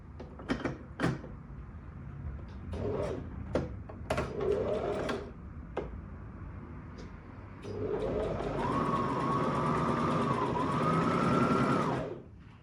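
A sewing machine runs a regular straight-stitch seam on fabric for a black dress. A few clicks and brief whirs come first, then the motor hums in one steady, close run of about four seconds before it stops.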